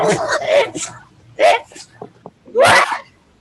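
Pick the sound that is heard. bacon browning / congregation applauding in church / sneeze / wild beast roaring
sneeze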